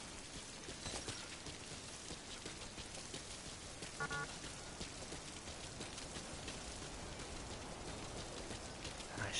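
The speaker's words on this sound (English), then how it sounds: "It's also raining again." Steady rain falls in the video game Metal Gear Survive, a quiet, even hiss of drops that continues unbroken throughout with no voices.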